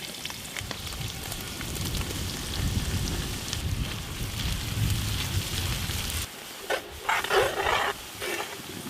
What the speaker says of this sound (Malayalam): ഇനി കുറച്ച് ഉള്ളി നെയ്യിലിട്ട് വറുക്കണം.